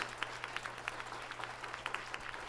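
Scattered applause from an audience in the video game Corpse Party, a thin spread of claps over a steady background hum, fairly faint and unbroken.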